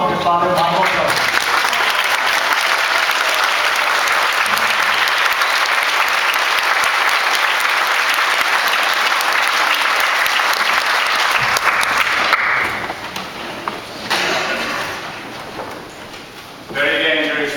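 Loud, dense applause from an audience standing to welcome a priest at a historical society event, sustained for about twelve seconds before thinning into scattered clapping and voices.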